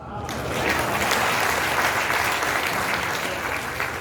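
Sustained applause from a large audience at a public speech, steady and dense clapping holding at an even level for about four seconds with no voices on top.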